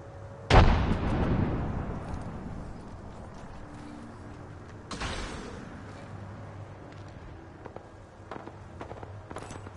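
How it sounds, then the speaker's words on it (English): Grenade explosion in the Apex Legends video game: one sudden, loud close blast with a long rumbling decay, then a second softer boom midway, over quiet game ambience. "Tossing a grenade."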